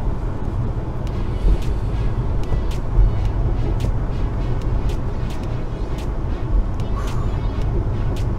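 A Subaru SVX coupe cruises along the road, heard from inside the cabin as a steady low engine and road rumble with faint ticks and rattles throughout.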